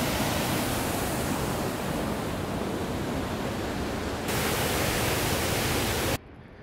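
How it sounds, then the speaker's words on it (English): A waterfall at an abandoned hydroelectric plant roars as a loud, steady, broadband rush of falling water, unbroken and close, with no voices, cutting off abruptly near the end. "And I think we found another waterfall."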